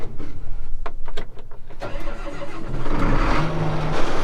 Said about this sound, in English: let's start up the tractor and warm it up first.